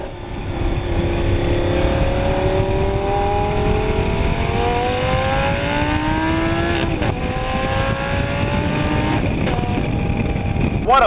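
A 2012 Lamborghini Gallardo LP 560-4 Spyder accelerates hard through several gear changes, its engine climbing steadily in pitch and dropping at each shift, loud and sustained from inside the car with some voice under it.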